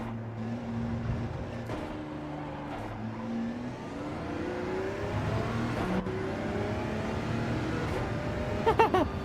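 A race car in Gran Turismo 7 at Monza, GR.1 or GR.3 class, drones and shifts through its gears with rising and falling engine pitch, moderately loud, accompanied by a few sharp clicks near the end.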